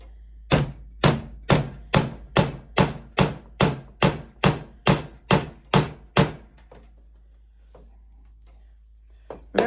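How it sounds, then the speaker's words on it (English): Hammer blows drive plastic hinge dowel inserts into a cabinet door, about a dozen sharp, evenly spaced knocks that stop partway through and leave faint handling noise after. "I'm going to run and get a hammer and see if those will hammer in"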